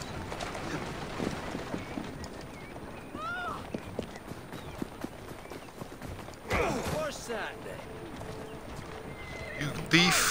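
Clip-clop of a horse's hooves pulling a wagon through Victorian London streets in Assassin's Creed Syndicate, a rhythmic trot running under game ambience, with a louder rattling burst partway through and voices mixed in.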